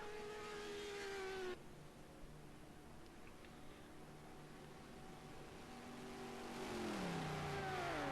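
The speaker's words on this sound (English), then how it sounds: "I love hearing these cars come through the trial like that" Race cars in a sim-racing endurance event at Daytona pass through turn 1, engines whining loud and close at first, dropping to a quieter drone, then another car rising and passing with a falling Doppler pitch.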